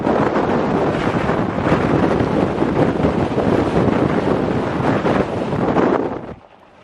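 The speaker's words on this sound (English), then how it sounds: "Here's proof that a Ferrari actually drives on the gravel." A Ferrari driving on a gravel road, a loud, steady broadband roar of tires crunching and wind buffeting the microphone throughout, dropping away abruptly near the end.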